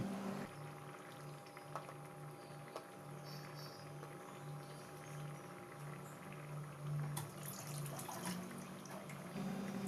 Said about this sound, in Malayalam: ഇപ്പോൾ ഈ ഗ്രേവി നല്ലതുപോലെ തിളക്കുന്നുണ്ട്